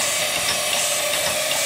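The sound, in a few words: engine running on steam from a flash steam generator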